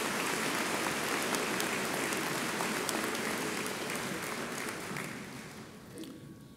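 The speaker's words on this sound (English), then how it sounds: "Please give all of these supporters a round of applause" A large crowd at Lake-Sumter State College's spring commencement in Leesburg applauds supporters with sustained, dense clapping, a steady wash of sound that tapers off toward the end.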